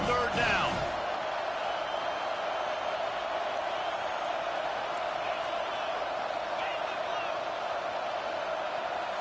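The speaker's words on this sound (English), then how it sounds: "Decibels rising as the crowd gets behind this defense on 3rd down." A dense stadium crowd roars in a college football video game against TCU as the defense lines up on third down, a loud, steady wash of noise that fills the whole stretch.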